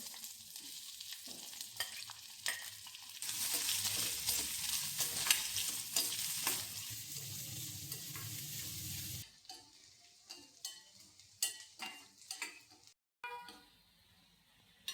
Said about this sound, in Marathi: तेल तापलेलं आहे, कांदा टाकून घेऊ।